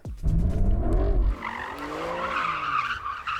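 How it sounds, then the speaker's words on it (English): A drifting car squeals its tires loudly with wavering pitch over a low engine roar, starting abruptly and easing to a steadier screech as the slide continues. "Oh, we're getting some drifting"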